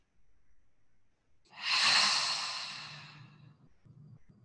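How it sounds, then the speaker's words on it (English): A deep belly breath during a floor stretch, heard as a long, close, airy exhale that swells quickly and fades slowly over about two seconds. Faint breathing comes before it in quiet surroundings. "as you take in a deep belly breath"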